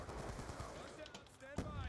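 Rapid gunfire from an AN-94 rifle in Black Ops 2 crackles in quick bursts over game sounds, with one sharper shot standing out.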